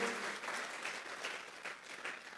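A church congregation claps together in an offering of applause during a Sunday service, dense steady clapping with slight surges, fairly loud and continuous throughout with no talk over it.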